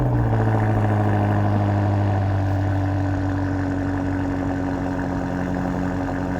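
A 2020 BMW X6 M Competition idles close by, a steady deep engine hum with strong low tones that ease slightly in pitch early on, then settle at a constant level with no talking.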